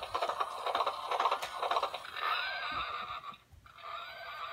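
A toy horse on a cart gives a whinnying neigh, a moderately loud mechanical call heard with a rustling background and no talking.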